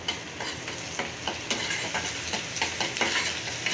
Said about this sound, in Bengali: পেঁয়াজ দিয়ে দিলে পেঁয়াজগুলো লাল লাল হোক।